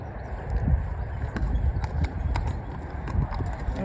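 A cob horse wearing a rubber bit walks, its hooves clip-clopping in a steady, moderately close rhythm over a continuous outdoor background rumble.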